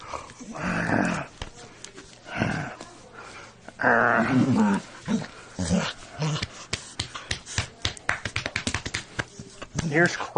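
Dog growling and making Wookiee-like grumbling vocalizations during play, several drawn-out growly bursts interleaved with someone talking nearby, followed by a run of short quick sounds toward the end.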